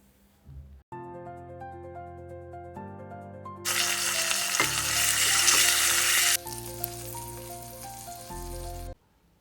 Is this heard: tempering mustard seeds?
yes